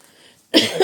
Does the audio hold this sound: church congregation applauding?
no